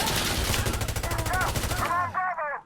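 An AS Val rifle in the video game Insurgency Sandstorm fires a rapid sustained automatic burst, loud and close, the shots ending in a decaying echo.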